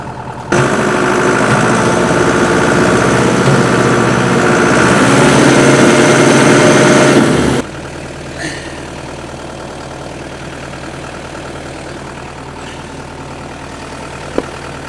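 Farm tractor idling while it lifts a corner of a feeder wagon with a strap over the bucket, a loud steady engine rumble that suddenly drops to a quieter idle, with light clanks afterward.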